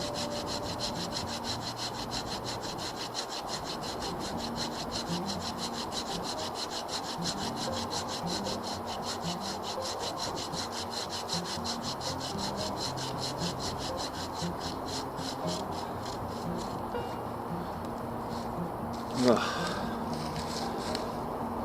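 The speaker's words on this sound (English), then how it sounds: "Really flying through this wood, making short work of it still" A Bahco Laplander folding saw cuts through wood in steady, rapid back-and-forth strokes, loud and close, running continuously with a brief knock near the end.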